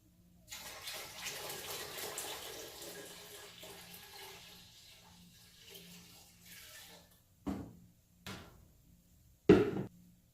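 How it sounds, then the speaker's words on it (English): Water runs steadily into a large pot for several seconds, then stops, followed by a few sharp knocks and clanks of the pot close by; cold spring water for kombucha. "I dumped it into the large pot so that I can add the other gallon of cold spring water"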